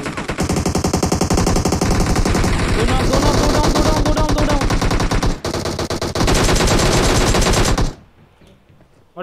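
Automatic gunfire in the battle-royale game PUBG: loud, rapid, sustained bursts of shots for about eight seconds with one brief break, then it cuts off into near silence.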